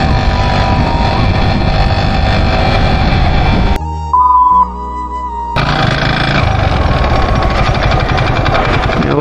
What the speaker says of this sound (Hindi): और ये आवाज़ अच्छी नहीं है।